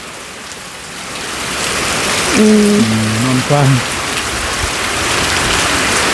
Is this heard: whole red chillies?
no